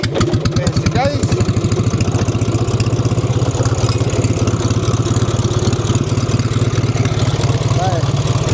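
An old J.A.P. engine just started, running at a steady, loud idle with rapid, even firing pulses close by for the whole stretch, with voices briefly heard over it.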